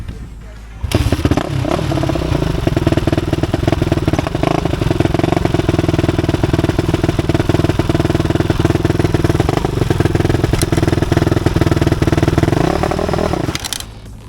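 A dirt bike engine catches on a kick start and runs steadily at a loud, close, rough mid-pitched idle with slight revving, out riding in Mudgee, then cuts off abruptly near the end.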